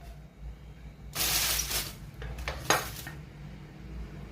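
A metal pressure cooker lid is fitted and locked shut over chicken masala gravy: a loud scraping clatter, then a few sharp metallic knocks and clicks, heard alone in a quiet kitchen.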